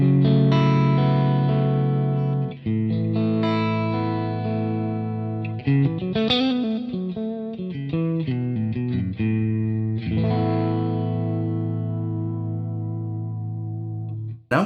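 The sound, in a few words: electric guitar through Boss Katana Artist Gen 3 amp, Dumble-style clean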